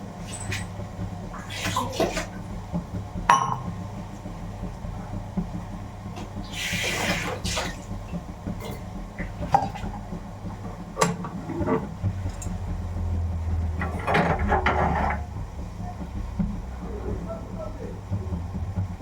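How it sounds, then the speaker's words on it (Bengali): Tea being made in a home kitchen, with splashing water and occasional clinks of pots and cups at close range over a steady background hum, while voices talk throughout. "চা করছি।"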